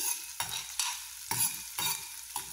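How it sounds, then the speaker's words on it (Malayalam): Green chillies and sliced onions are sautéed in a pan for a potato fry: rhythmic spatula strokes repeat roughly twice a second over a soft, fairly quiet sizzle. "പച്ചമുളകും അരിഞ്ഞ് വെച്ചിരിക്കുന്ന സവാളയും ഇട്ട് കൊടുത്ത് നന്നായിട്ടൊന്ന് വഴറ്റിയെടുക്കാം"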